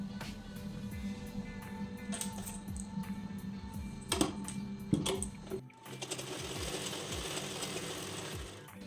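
A sewing machine stitches blouse fabric, whirring in close, steady runs with a few short pauses and slight changes in pace.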